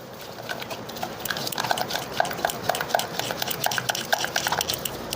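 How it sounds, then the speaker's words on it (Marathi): A spoon stirs bhaji batter in a bowl after soda is mixed in, producing a quick, steady run of wet clicks and scrapes close by. "चांगलं असं मिक्स करून घ्यायचं."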